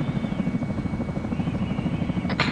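A Chinook helicopter from a video game drones with a steady, loud rotor thrum, constant and close, with a brief sharp burst near the end.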